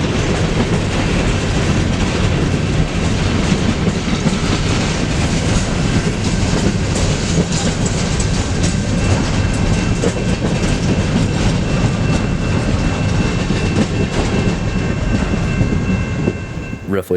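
A very long freight train rolls steadily past a Galesburg, Illinois station, its railcars keeping up a loud, continuous clickety-clack and rumble for the whole stretch, fading slightly at the end as the last car goes by.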